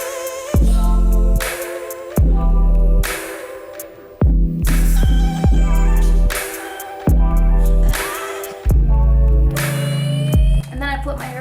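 A hair dryer blows on curly hair in loud bursts that switch on and off repeatedly, each stretch lasting one to two seconds and separated by short quiet gaps.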